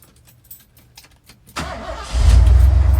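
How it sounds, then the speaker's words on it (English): A 1984 Ford F250 truck with a stock 302 engine cranks briefly, catches, and settles into a loud, steady idle, heard close up. "I'll go ahead and fire it up for y'all."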